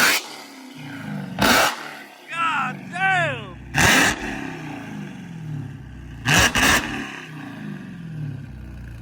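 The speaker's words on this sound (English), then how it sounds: "my boy's about to hop in the car and rev it up for me" A Dodge Hellcat Redeye with catless mid pipes revs hard in several loud, sharp bursts over a steady rumbling idle, with people reacting and talking between the revs.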